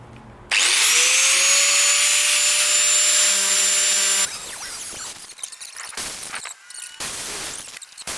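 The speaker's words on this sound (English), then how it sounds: "with an angle grinder that we found in the garage" An angle grinder found in a garage whines loud and steady for about four seconds after starting with a sharp rise in pitch, then winds down into scattered scraping and clatter.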